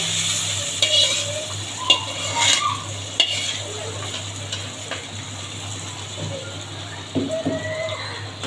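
Boiled mung dal stirred and fried in rendered fat in a pan, with steady sizzling under repeated scraping and clattering stirs from a utensil, close by throughout.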